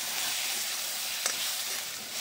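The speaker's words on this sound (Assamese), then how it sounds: "এতিয়া ভেন্দিকেটা দি দিলো আৰু ভেন্দিকেটা 2-3 মিনিটমান সময় ভাজি লম" Okra fries in hot oil in a pan, hissing steadily at close range, with one brief clack partway through and no voices.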